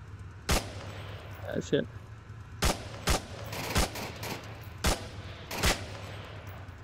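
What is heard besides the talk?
long-range sniper rifle shots in the VR video game Onward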